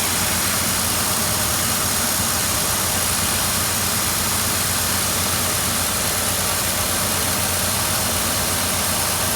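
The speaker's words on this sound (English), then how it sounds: "we got the motor going here" The engine of a 1953 Dodge B4B truck runs at a steady idle, a constant close rumble with broad noisy hiss and no change in pace, heard alone without talk.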